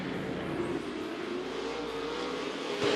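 RaceSaver sprint cars roar around the track at Eagle Raceway, a sustained blended engine drone with a slight rise near the end, heard from a distance with no voices.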